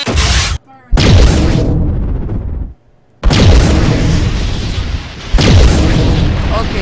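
Orbital friendship cannon fires in Garry's Mod sandbox with loud booming blasts in several bursts, separated by brief near-silent gaps, with heavy rumbling low end.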